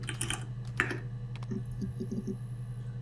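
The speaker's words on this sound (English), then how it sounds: "maybe we should try and type in that sentence" Someone typing on a PC keyboard during a detective game, a short run of close key taps followed by lighter scattered clicks over a steady low hum, no talk.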